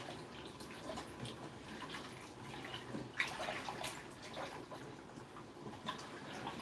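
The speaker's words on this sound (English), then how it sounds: "So I'm gonna put some hot water to kind of speed up the" Hot water pours into a cooking pot on high heat, a steady soft splashing and trickling stream lasting several seconds, with a few small clinks.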